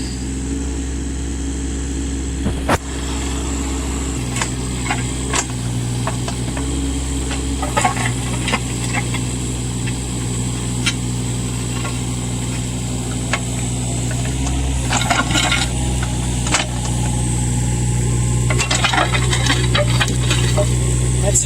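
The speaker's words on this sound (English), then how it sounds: "I don't know if you can hear me over that motor." A motor engine runs steadily while digging a ditch through hard ground, a loud continuous drone with occasional knocks and scrapes, and a person talks over it.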